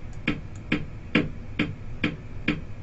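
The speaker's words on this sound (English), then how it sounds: "which is simply a beat looped." A looped kick-drum beat sample from Virtual DJ software thumps in a steady even pulse, about six punchy hits at roughly two per second, each with a short clicky attack, alone with no voices.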